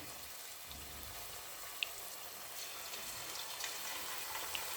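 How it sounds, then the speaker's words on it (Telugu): Chicken lollipops frying in hot oil preheated to about 250, a steady, close, continuous hiss and fizz of bubbling oil with a few faint pops, no talking. "ఇప్పుడు ఇది మెల్లగా వేడైన నూనెలోకి వేసుకుందాము"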